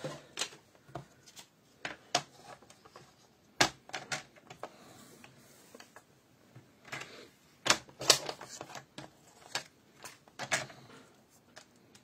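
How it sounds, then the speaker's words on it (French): Paper trimmer blade slicing through card for a handmade greeting card, a series of short sharp clicks and scrapes scattered irregularly, close and fairly quiet with no talking. "là je vais venir couper avec mon massicot pour que ça soit droit."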